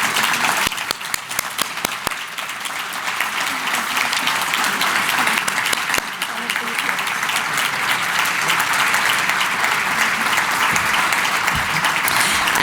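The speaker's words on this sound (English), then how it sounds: "so that we can all give them a big round of applause" Audience at a mental health board's annual meeting applauds award winners with sustained, dense clapping that holds steady and loud for the whole stretch, no talk over it.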